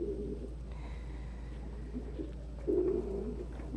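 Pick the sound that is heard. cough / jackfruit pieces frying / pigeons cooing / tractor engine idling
pigeons cooing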